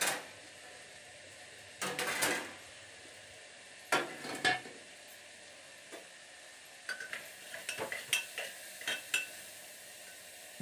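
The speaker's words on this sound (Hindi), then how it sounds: "अब इसमें पानी ऐड करेंगे।" Cooking a vegetable curry in a pot, with scattered clinks and scraping bursts of a spoon stirring against metal plus faint sizzling, intermittent and close in a quiet kitchen.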